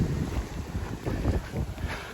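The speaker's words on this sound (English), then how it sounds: "It's a bit windy. It's been windy all day." Evening wind blowing outdoors on a windy day, buffeting the microphone in rumbling low gusts that swell and ease across the short stretch, with no voices.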